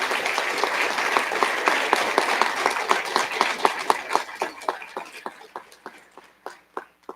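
A crowd applauds graduates of a physical therapist assistant class at a college pinning ceremony, dense clapping that gradually thins to a few scattered claps near the end.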